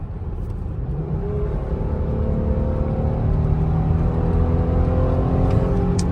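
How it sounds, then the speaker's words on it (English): A Chrysler Pacifica minivan engine pulls at wide open throttle, its smooth rising drone building steadily louder from inside the cabin, with no talk over it. "The engine sounds nice when it's at wide open throttle."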